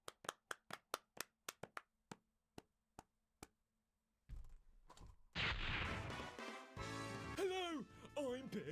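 A brief round of sharp, widely spaced claps, about a dozen in a few seconds, from a gaming stream, after which loud music and voices take over.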